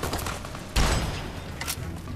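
Enemy gunfire in the Fallout New Vegas video game, shooting up a hill from far off: a sharp burst of shots lands, then a fainter second crack follows over low background rumble.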